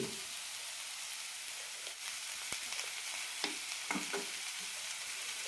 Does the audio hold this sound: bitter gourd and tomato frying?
yes